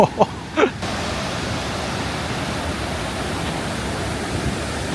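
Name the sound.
roar of a large waterfall in Africa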